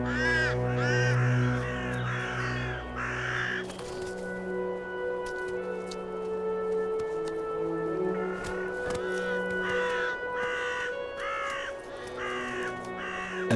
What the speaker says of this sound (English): Vultures and a few crows have led the way for him.